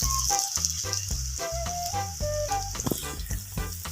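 Small pieces of freshly harvested sweet potato (kamote) fry in oil with a constant hissing sizzle, while tonal, music-like sounds rise and fall alongside it.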